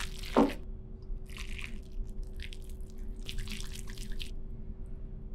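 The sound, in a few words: mixing ground meat with garlic and spices by hand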